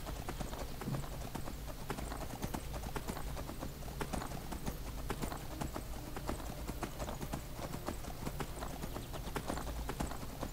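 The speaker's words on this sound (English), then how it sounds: "that's a pretty horse" Horse hooves clip-clop steadily through the video game Skyrim, a continuous dense rhythm of hoofbeats at moderate level over an ambient bed, without any voices.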